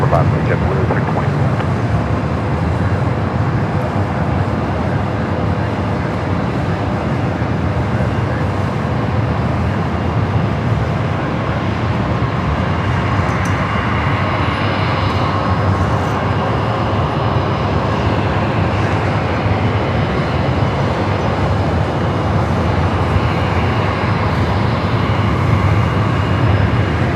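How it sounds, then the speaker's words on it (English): An airliner bound for Mexico City rolls down runway 24 left at LAX, a broad, steady roar of jet engines filling the air throughout with no pause, loud and continuous, with faint radio voices mixed in. "flight heading back to Mexico City, now rolling down at 24 left"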